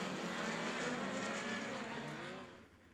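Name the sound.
midget race car idling on speedway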